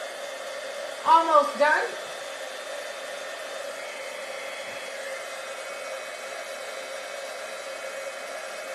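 A heat tool blows hot air over a watercolored card in a steady, even hiss that runs the whole time, with a brief spoken remark near the start.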